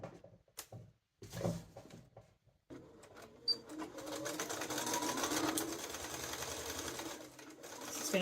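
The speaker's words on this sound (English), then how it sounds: "you're sewing these two pocket bags together" A sewing machine stitching two pocket bags together, with a few quiet handling knocks first, then a steady whirring run of stitching that lasts several seconds at close range.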